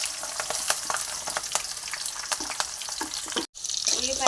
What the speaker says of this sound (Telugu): ఇప్పుడు పచ్చిమిరపకాయలు ఉల్లిపాయలు వేసుకున్నాం.